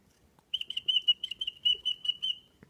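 A person whistles to a pet bird in a rapid run of short, bright, high notes. The whistling is close and clear, lasts about two seconds, and is heard alone.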